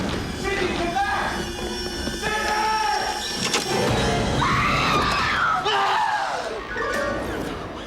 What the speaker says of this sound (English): I just said, scream as loud as she does, and he did this whole thing.